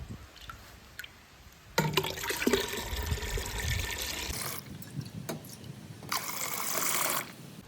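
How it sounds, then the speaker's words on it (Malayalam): Water is poured from a container into curd for spiced buttermilk, a loud rushing, splashing flow lasting several seconds with a brief break and a second gush before it stops. "ഒരു 7 ലിറ്റർ വെള്ളം നമുക്ക് ഇതിലേക്ക് ഒഴിക്കാം"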